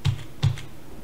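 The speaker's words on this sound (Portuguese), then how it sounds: "Vou dar aqui um Ctrl Z." Two quick computer keyboard presses for a Ctrl Z undo, close and crisp, the second following about a third of a second after the first, with no talking.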